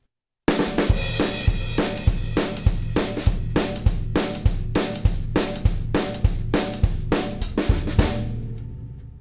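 A steady doo-wop drum groove with regular hits on the center of a snare, not the rim, crisp and close, repeating in an even shuffling rhythm for several seconds, no talking.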